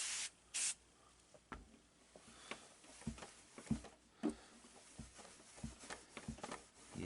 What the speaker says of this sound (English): give it a little bit of soaking here with some Sprayway